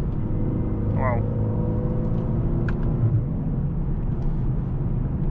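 Car driving on a forest mountain road, a steady close engine and tyre rumble from inside the cabin, with a brief exclamation from a voice.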